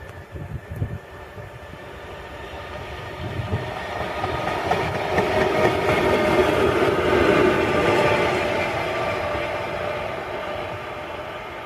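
A train on an industrial railway line rolls past on the rails, a heavy rumbling roar with clattering wheels that swells to a peak midway and then slowly eases.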